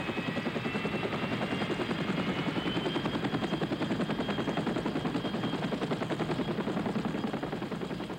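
Steady rapid chopping of heli-skiing helicopter rotor blades with a constant engine whine, loud and continuous throughout.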